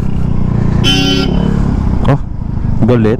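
A horn blares loudly for under a second on a busy road beside an idling motorcycle, a Yamaha Mio i 125, with steady engine rumble throughout and a man exclaiming over it.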